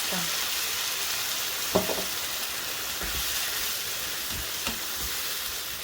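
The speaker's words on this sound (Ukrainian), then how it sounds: "І тільки почала наша цибуля з морквою рум'яніти, додаємо сюди томатного соусу." Onion and carrot fry in a pan with tomato sauce added, giving a steady close sizzle and hiss throughout, broken by a few soft stirring clinks.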